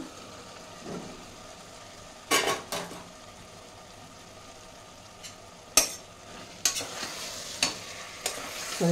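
About 700 grams of potatoes get stirred in a pan, heard as a quiet hiss broken by several sharp scraping clatters of the spoon against the metal, close up with no talking.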